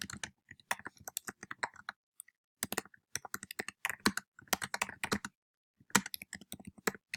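Typing on a computer keyboard, steady bursts of close, crisp key clicks separated by short pauses, with no voices.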